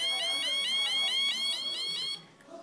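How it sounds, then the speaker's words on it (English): A homemade electronic burglar alarm noise generator circuit warbles in a rapid, repeating high-pitched wail for about two seconds, then cuts off abruptly. "it's a noise generator for a burglar alarm."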